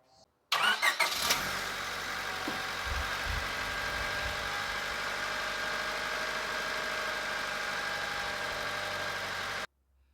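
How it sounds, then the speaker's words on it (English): A 1996–2000 Honda Civic engine cranks briefly and catches, then settles into a steady, even idle for several seconds before cutting off abruptly. "let's start the car and see if everything works"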